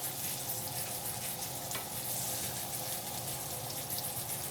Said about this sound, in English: we're going to put our onions in next